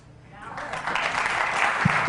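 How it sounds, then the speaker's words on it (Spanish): Applause from an audience at a talk on Colombian politics, swelling from faint to steady clapping over about two seconds, with talking over it. "Merecidos aplausos, como siempre."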